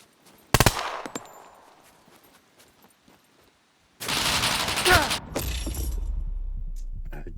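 Advanced rifle fire in the video game Scum: a sharp burst of shots early, then a sustained loud rattle of rapid automatic gunfire with crackling impacts, surrounded by quieter stretches.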